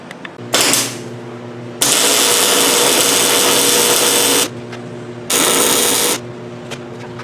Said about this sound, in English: I'll proceed to go over to the drill press and I'll drill all of the holes